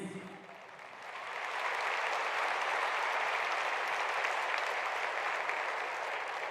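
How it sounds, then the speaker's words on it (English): Broad, steady applause from a large audience at the WUF13 closing ceremony in Baku, rising within the first couple of seconds and then holding as a thick wash of clapping with no talk over it. "A round of applause, please."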